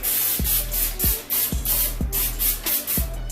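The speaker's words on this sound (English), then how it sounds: "I use olive oil spray on all my pans." Rapid, repeated bursts of aerosol olive oil cooking spray hissing close up onto a pan, about seven quick pumps in a steady rhythm.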